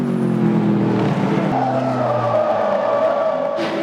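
Race cars in a 24-hour endurance race at night, engines droning loudly with shifting pitch and some tire noise as cars pass close by, steady and continuous throughout.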